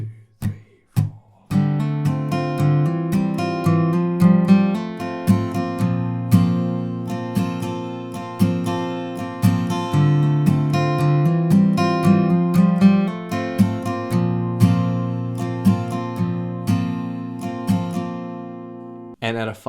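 An acoustic guitar plays an intro riff, rhythmic picked notes and strums in a bouncy repeating pattern, close and clear, after a short pause at the start.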